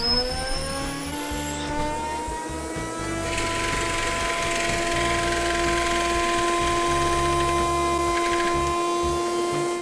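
A homemade LEGO vacuum engine runs steadily, giving a continuous whirring, buzzing drone with a strong steady pitch. It stays loud and even for about ten seconds.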